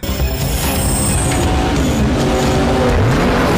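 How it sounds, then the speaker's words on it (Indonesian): Street race cars from the film Fast and Furious 4 roar loudly and continuously as engines rev hard, with tires squealing and cars rushing past in a dense, unbroken wall of sound. "Dia berhasil menyusul Dom yang sedang bersaing dengan pembalap lainnya."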